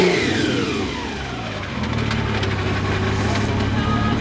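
A Nissan R32 wagon's engine runs rough and loud close by, a steady low drone with a rising whine, while a voice briefly talks over it.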